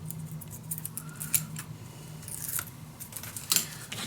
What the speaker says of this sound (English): Now we can peel this off.